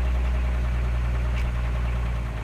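A Toyota HJ47 Troopy diesel engine idles steadily just after being revved, a loud, close, continuous low rumble with a slight knocking texture and no talking.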